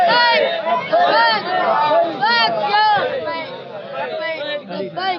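A crowd at a religious rally chants Labbaik Ya Rasool Allah slogans, with loud massed voices in pulsing, rhythmic bursts and a surging murmur between them.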